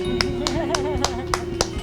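Slow, separate hand claps in a room, about seven evenly spaced sharp slaps under a steady electronic hum, with a person talking between them.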